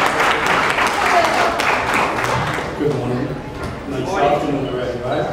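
Crowd applause at an outdoor Caribbean unity festival and art showcase at Miami Dade College, clapping mixed with loud voices and chatter throughout, the clapping less prominent than the talk.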